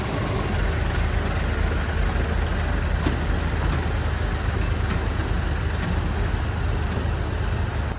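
A tractor engine runs at a steady low rumble, close and constant, while an old hay baler is moved out of the way on the farm.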